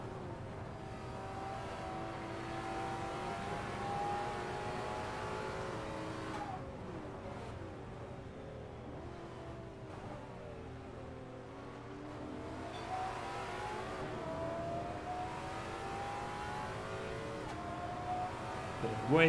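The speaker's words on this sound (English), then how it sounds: "Away goes the Porsche." A Porsche race car accelerating away at VIR in a GT4 sim racing game, a steady engine drone rising and sweeping through gear changes, fairly loud and continuous for the whole stretch without talk.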